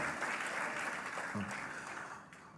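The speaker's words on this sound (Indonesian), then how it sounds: "Beri tepuk tangan lagi buat Tuhan kita." Brief, fairly quiet applause from a church congregation at a worship service in Batam, Indonesia, steady and slowly fading.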